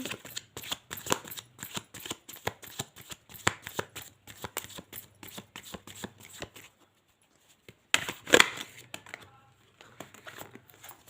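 Tarot cards are shuffled and laid out in a rapid run of crisp riffling flicks, then a pause and a louder flurry of card handling near the end, with no talking.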